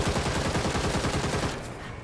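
Rapid bursts of gunfire from mob shooters in the video game Gotham Knights, a loud dense rattle of shots for about two seconds that trails off at the end.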